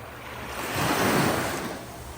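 Surf on a tropical beach at Calaguas washes in steadily, swelling to a louder crest midway and easing off again, with a broad roar and light wind across the microphone.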